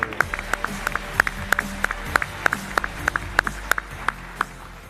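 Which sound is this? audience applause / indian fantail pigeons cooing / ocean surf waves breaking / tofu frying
audience applause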